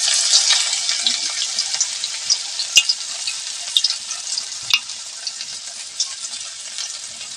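Sonaru flower fritters fry in hot oil in a kadai, giving a bright, continuous sizzle and bubbling, dotted with sharp pops and a few clinks as they cook.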